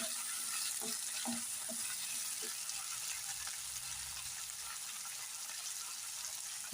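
Coconut pieces fry in a pan with coriander seeds and red chillies, a steady close sizzle and crackle with a few scraping stirs early on, continuous throughout without talk.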